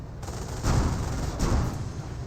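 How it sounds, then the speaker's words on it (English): Tank cannon fire in the Company of Heroes video game comes as two heavy, booming blasts about a second apart, each a deep low thump with a rumbling tail over constant battlefield din. "And now the other one's going to see some cannon fire as well"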